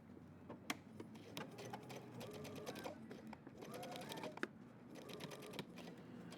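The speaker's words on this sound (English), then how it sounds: "I'm doing 2 rows of basting stitches" Sewing machine running basting stitches on a jeans jacket, a fast close mechanical needle chatter in short bursts separated by brief pauses, with sharp clicks between runs.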